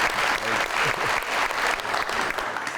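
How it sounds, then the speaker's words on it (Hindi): Audience applause at a Pakistani TV talk-show taping, steady dense clapping from a studio crowd filling the whole stretch without pause, fairly loud and even throughout. "थैंक यू, बहुत सारी तालियां।"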